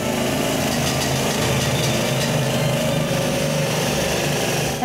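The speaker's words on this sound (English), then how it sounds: "we're guided to the drilling chamber where our interpreter explains tools used in the tunnel, complete with a loud demonstration." A mining drill demonstration in the drilling chamber of a mine tunnel makes a loud, continuous, harsh mechanical roar with a rattling texture, sustained without pause and close by.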